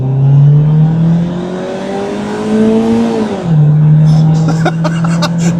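A Mitsubishi Pajero Mini launches hard in a drag test, its small engine droning loudly as it climbs in pitch, drops at a gear change, then pulls again toward high revs.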